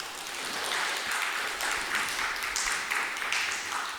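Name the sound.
audience applause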